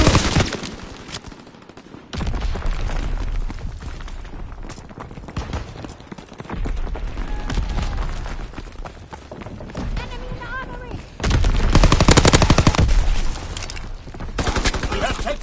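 Gunfire in a PS4 video game battle: dense bursts and rattling volleys of automatic and single shots continue throughout, swelling loudest near the end, with voices talking over the fighting.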